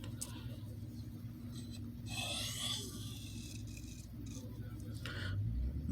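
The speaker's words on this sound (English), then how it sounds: "120 high angle 20-degree pass on the golden stone" A Morakniv 510 knife blade is drawn across a wet golden sharpening stone at a high 20-degree angle, giving soft rasping strokes around two seconds in and again near the end over a steady low hum.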